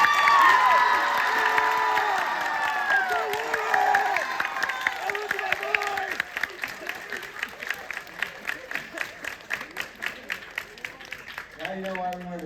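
A large audience claps and cheers at a school presentation event, with whoops and shouts early on, then thinning into rhythmic clapping near the end.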